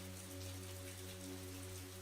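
Soft, steady rain patters throughout as a quiet background effect for a calm sleep story, faint and continuous with a low steady hum beneath it and no voices.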